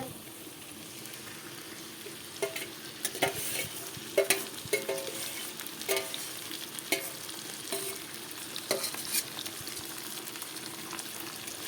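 Mutton going into a hot pan and frying, giving a steady close sizzle broken by repeated scraping and stirring clatters of a utensil, with no talking.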